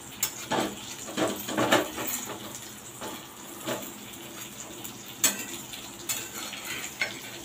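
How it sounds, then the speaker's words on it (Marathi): Surmai fish, Malvani style with rava coating, fries in a pan while being turned over, a soft sizzle broken by several sharp scrapes and clinks of the spatula against the pan. "मी एक साईडने आता परतून घेणार आहे."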